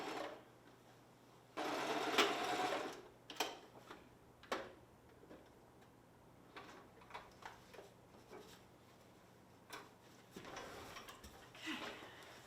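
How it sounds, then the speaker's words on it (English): A sewing machine stitches fabric for a ribbon skirt in short bursts of rapid mechanical whirring, running forward and then backstitching, with quiet ticks and pauses between runs and no talk over it. "Forward stitch. Back stitch, always back stitch."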